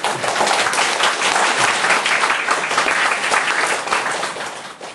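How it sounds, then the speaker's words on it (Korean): Congregation in a church service applauding in congratulations on a newborn grandson, a dense, steady wash of many hands clapping close and loud for the full five seconds, easing slightly at the end. "축하 박수 좀 보내주세요."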